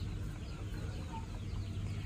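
Chicks bask and dust-bathe in slightly damp sand beside their hen, making faint, low clucking and murmuring throughout, soft and near, over a steady low hum.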